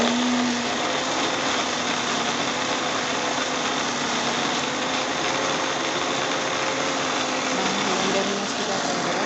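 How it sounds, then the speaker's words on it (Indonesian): Kitchen blender whirring steadily as it blends spice paste for gule ikan, a loud continuous motor drone holding an even pitch, close up and without pause. "Terus kita blender kembali."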